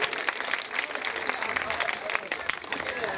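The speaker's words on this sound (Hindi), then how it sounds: "एक बार जोरदार तालियां बजाएंगे प्रभु राम के लिए।" A crowd at a Ram katha gathering claps steadily, a dense patter of many hands applauding at moderate volume, with voices mixed in.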